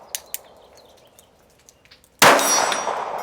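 At an outdoor steel shooting range, a bullet strikes the large center gong target with one sharp, loud metallic clang that rings on and decays, preceded by a few faint ticks and quiet background.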